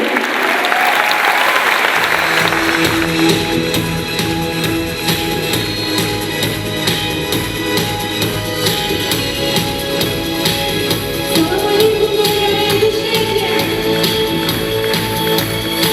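Audience applause at a televised awards ceremony, a dense, loud, sustained clapping that swells in after a quiet start and continues steadily with faint music underneath.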